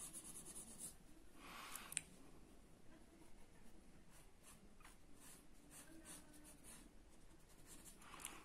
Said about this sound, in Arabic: إذا لونوا النصيب ديال الوفاء بالأزرق